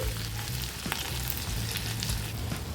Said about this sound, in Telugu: సన్నగా కట్ చేసుకొని వేసుకోవాలి చాలా టేస్టీగా ఉంటుందండి ఇలా ఆయిల్లో ఫ్రై చేసుకోవాలి